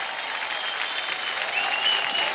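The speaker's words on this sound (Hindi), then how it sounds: "जोरदार तालियां हो जाए बिकी दास के लिए गाइस" Steady applause rises from the audience at a televised dance audition show, a dense, continuous patter of clapping that swells slightly toward the end.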